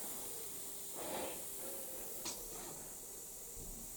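Air hisses faintly from a leaking, dodgy connection on a compressor running under load, in a few short soft bursts over a quiet, steady background.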